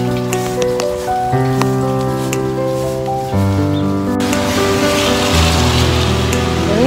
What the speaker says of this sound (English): It's still raining. It's pouring rain.